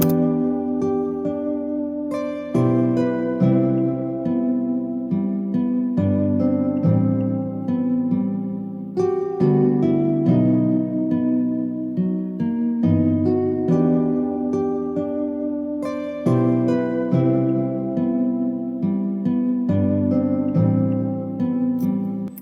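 A mellow electronic beat made in FL Studio, with layered passing chords shifting every couple of seconds over steady bass and light percussion, playing continuously with no voices.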